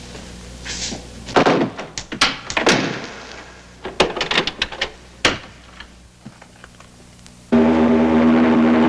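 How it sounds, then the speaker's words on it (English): A front door in the 1978 film The Gift of Love is shut and secured: a run of sharp thuds, knocks and latch clicks close by, then a sudden steady hum at the end. "Griggs, close the front door and lock it."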